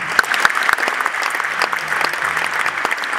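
Concert audience applause for a performance, sustained clapping with a few sharp individual claps standing out near the start, fairly close and loud throughout.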